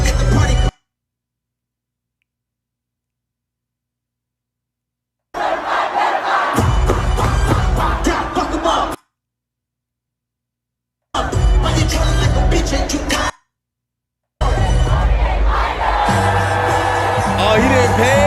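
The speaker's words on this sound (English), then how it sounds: "I want to hear what the crowd saying." A large concert crowd at a show in Boston roars, cheers and shouts in unison in loud bursts separated by abrupt silent gaps, with chanting voices throughout.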